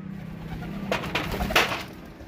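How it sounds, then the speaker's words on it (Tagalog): Racing pigeons at night loading for a race in Irosin, Sorsogon: a low steady cooing hum under a brief burst of wingbeats and flapping, fairly close. "Ito, may ibon pa dito."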